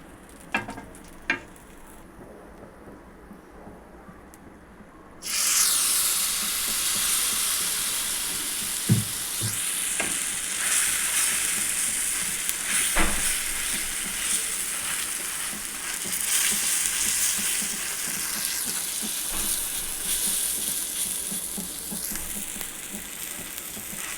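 Oil on a hot tawa bursts into a loud, steady sizzle as cheela batter meets it, the frying hiss continuing unbroken after a quiet start with a few clanks.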